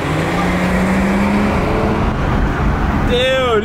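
Road traffic with cars passing and engines revving on a busy 5pm street outside a car event, including a BMW 340 and M340i and a Hellcat, a steady engine rumble with people talking over it and a rising tone near the end.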